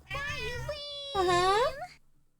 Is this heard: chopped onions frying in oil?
no